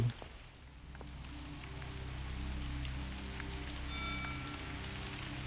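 Rain falls in a ghost-hunting adventure game, a soft steady patter spread evenly over a low droning hum, with a few faint tonal chimes surfacing briefly toward the end; no one speaks.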